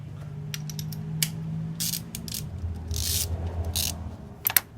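A Torque Solution part being tightened by hand, with close ratcheting clicks and metallic rubbing in short bursts over a low mechanical hum, and no talking.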